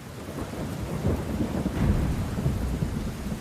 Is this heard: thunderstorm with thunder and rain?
yes